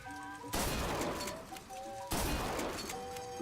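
Gunfire from the video game Bioshock Infinite: two heavy blasts about a second and a half apart, each with a crashing decay, over quiet tonal game music.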